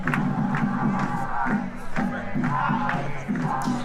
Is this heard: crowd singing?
yes